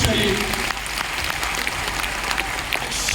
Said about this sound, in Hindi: एक बार जोरदार तालियां उनके लिए होनी चाहिए।